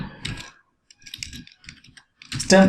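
Typing on a computer keyboard while entering text in Tinkercad, quick clusters of key clicks separated by short pauses, with a voice speaking between and over the keystrokes.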